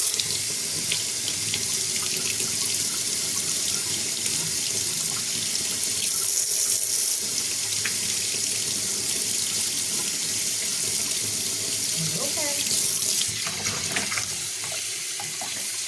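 Tap water runs steadily and fairly softly while a puppy gets its final rinse during its first bath, a continuous splashing stream with a few faint clinks near the end.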